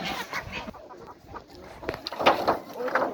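Backyard hens clucking around their coop, short uneven calls close by with some rustling between them, brief and fairly loud.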